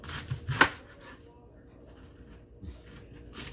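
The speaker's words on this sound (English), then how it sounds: "let's go ahead and cut these up a little bit smaller" A knife cuts cabbage in a home kitchen, with one sharp, crunchy chop up close, followed by softer scraping and rustling, while a person talks faintly in the background.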